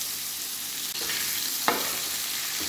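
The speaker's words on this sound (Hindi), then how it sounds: "अब इन भिंडियों को मैं फ्राई कर लूंगी" Stuffed bhindi fries in a pan with a steady, even sizzle, broken by a couple of sharp scraping clicks from a turning spatula; no speech.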